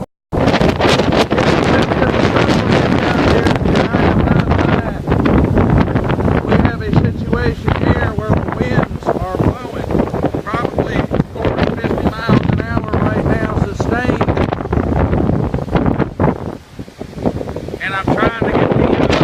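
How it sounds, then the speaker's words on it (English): Strong hurricane wind from Hurricane Irma roars loud and steady into the microphone throughout, gusting and buffeting, with a voice talking intermittently over the storm noise. "let's go ahead and show you what's going on in the fucking wind"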